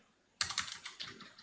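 Keys on a computer keyboard are tapped in a quick, uneven run of about eight soft clicks after a moment of near silence, close and fairly quiet.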